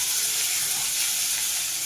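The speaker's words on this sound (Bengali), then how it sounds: "এবার দিয়ে দেবো আমি পেঁয়াজ কুচি আর টমেটোর কুচি।" Chopped onion and tomato hit hot oil with garam masala, whole cumin, chilli and bay leaf for a young jackfruit curry, giving a steady, close sizzle that hisses evenly throughout the short moment with no talk.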